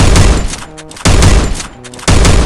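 A Winchester gun fires in the Free Fire video game, with three loud, evenly spaced shots about a second apart, each followed by a short mechanical cycling sound.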